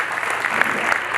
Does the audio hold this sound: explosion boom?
no